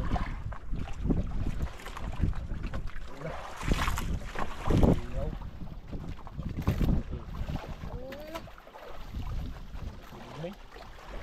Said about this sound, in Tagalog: Laki na ng alon.